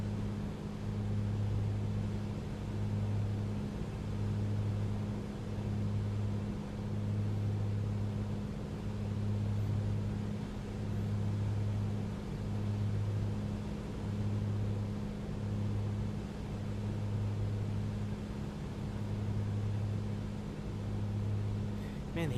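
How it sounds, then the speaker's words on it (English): A2A Comanche 250 piston engine in Microsoft Flight Simulator, a steady low drone with a pulsing throb that holds evenly for the whole stretch, loud and constant with no talk over it. "Man, the engine sounds way better."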